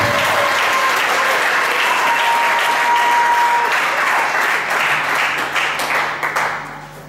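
A church congregation claps and cheers in praise of the Lord, a dense, loud wash of applause that holds steady, then thins and fades toward the end.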